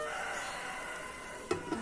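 Chickens and a rooster on a Filipino rural homestead, heard faintly in the background over steady ambient noise while food cooks, with a couple of short clucks near the end.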